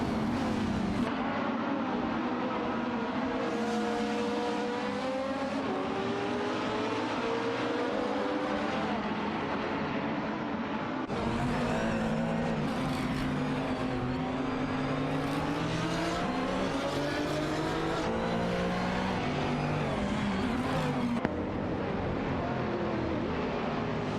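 Lamborghini Gallardo GT3 race cars battle for position in a racing video game, several engines revving and shifting gears continuously, with overlapping whines rising and falling through the whole stretch.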